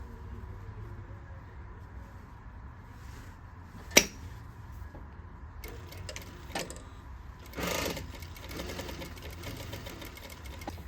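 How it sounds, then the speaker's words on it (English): A sewing machine stitches a pocket flap in a steady low mechanical hum, with a sharp click partway through and a brief louder burst of stitching near the end, close and alone without speech. "And we're gonna sew up here, across, back down."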